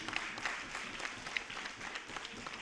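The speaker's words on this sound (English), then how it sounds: "A big round of applause for them too." Soft, fairly distant clapping from an audience in a festival hall runs evenly throughout, with a few sharper individual claps standing out.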